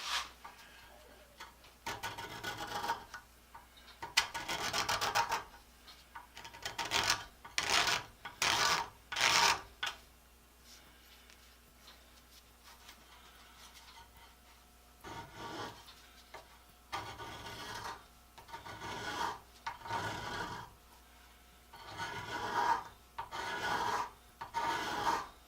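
Rasping scrape of an improvised metal scraper, ground down to one small corner, cutting a trench into wood, heard in repeated short back-and-forth strokes in bursts separated by quiet pauses, close and fairly loud.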